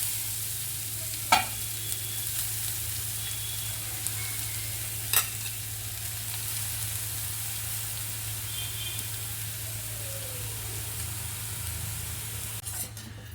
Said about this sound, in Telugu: ఇది క్యారెట్ ఫ్రై చేసుకోవాలని చెప్పిన కదండి